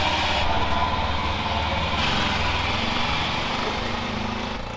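A tiny engine on the world's smallest car, a Hercules-powered micro car, runs steadily and loudly up close with a buzzing, high-pitched putter, continuous throughout with a slight rise in tone midway.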